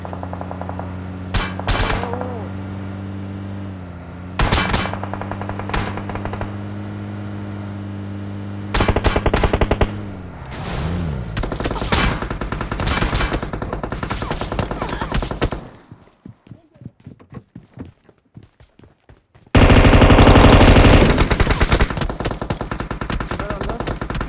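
Gunfire in a PUBG squad fight: loud rapid automatic bursts and single shots come in clusters, with brief pauses and a quieter stretch midway, while game sound effects play throughout.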